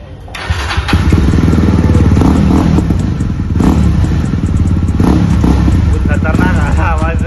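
Yezdi Roadster motorcycle with its exhaust DB killer removed, the engine starting and then revving loud and raspy up close, a rough, sustained exhaust roar with rising and falling throttle blips, while voices talk over it.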